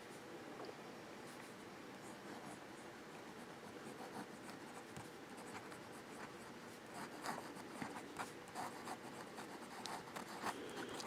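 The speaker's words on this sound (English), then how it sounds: "And I'm not putting a lot of pressure on this nib when I do it reverse." A Sheaffer Student fountain pen's nib is drawn upside down across paper with light pressure, producing faint, close scratchy strokes in short repeated bursts.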